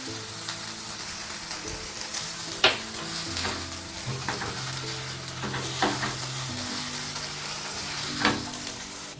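Chow mein with fried spices and peanuts being stirred in a frying pan: a steady close sizzle with repeated scraping stirs and occasional clinks, with no talking.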